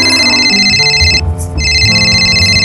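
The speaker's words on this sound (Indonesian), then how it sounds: "Telepon" A phone rings loudly with a steady electronic tone, pausing briefly in the middle and then resuming, close by with no one talking.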